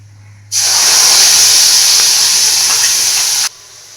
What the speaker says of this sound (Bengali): এবার দিয়ে দিচ্ছি এর মধ্যে হচ্ছে টমেটো আর কাঁচা পাকা লঙ্কা বাটা